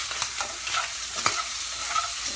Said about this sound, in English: Now, I'm going to stir my shrimp.